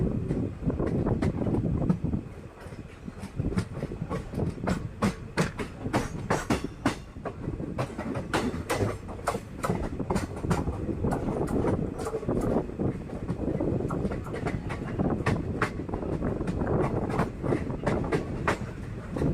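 A passenger train runs on rails through Alappuzha, recorded from on board, with steady loud rumbling and repeated clickety-clack beats from the wheels over rail joints, plus wind buffeting the microphone throughout.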